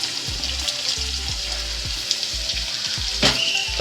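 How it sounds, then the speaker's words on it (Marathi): Onion frying in a pan over a full gas flame gives a steady sizzle, broken by repeated low thumps and scraping as it is stirred, with no voices. "तर आता याच्यामध्ये आपण टाकलेला आहे कांदा."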